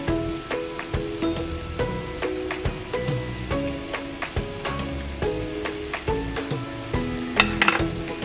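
Chilean beef empanada filling seasoned with salt and pepper is stirred steadily in a pan, with repeated scraping and spoon knocks over a soft sizzle and no talking.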